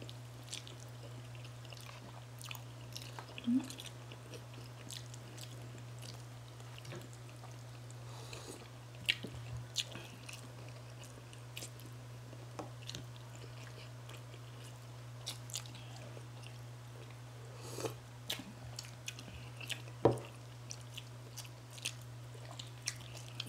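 Quiet chewing and biting on kadyos baboy langka, a Filipino pork stew with pigeon peas and jackfruit, with soft scattered wet chomps and small crunches over a constant low hum.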